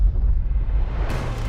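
Archival footage of the Castle Bravo nuclear test, a roughly 15-megaton thermonuclear explosion, carries a loud, sustained low rumble and roar filling the whole clip, with a sharper burst of noise entering near the end.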